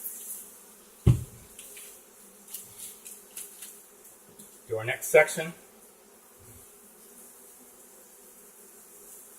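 Honeybees drone around a comb being cut out in a structural rescue, a steady low hum with a few sharp clatters and knocks from the work. A person speaks briefly over it.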